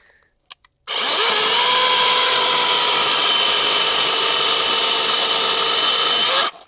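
An AL-KO CS 4030 36 V cordless chainsaw starts after a few faint clicks and cuts wood at a loud, steady high-pitched whine for about six seconds, then stops abruptly.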